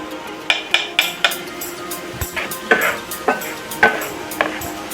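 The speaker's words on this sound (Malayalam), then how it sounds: "ഇനി നമുക്ക് മൈദയും കൂടിയിട്ട് ഒന്ന് സോർട്ടാക്കാം" Garlic and maida flour being stirred in a pan for a white sauce pasta, with a spoon repeatedly clinking and scraping against the metal in steady strokes over a faint sizzle.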